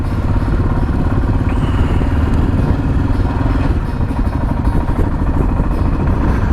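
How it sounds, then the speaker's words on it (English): Royal Enfield Himalayan single-cylinder motorcycle engine running, a loud close continuous thumping pulse with clatter, steady throughout without speech. "It's interesting being on a thumper because I'm used to a V-twin. So far it's running really well."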